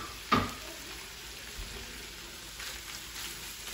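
Shrimp shells and onion frying in a pan give a faint, steady low sizzle, opening with a sharp clatter as they go in, then a quiet continuous crackle.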